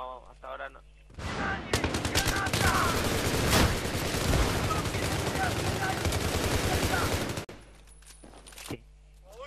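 Sustained loud automatic gunfire in Battlefield 3 on the Metro map, a dense roaring fusillade lasting several seconds before cutting off abruptly into quieter background.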